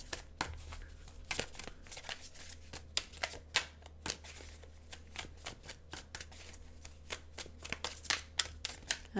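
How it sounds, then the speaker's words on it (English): Tarot cards being shuffled by hand during a reading, a rapid series of crisp riffling and slapping bursts with uneven rhythm, close and fairly quiet over a low steady hum. "I'm going to see if I can get one more card out there"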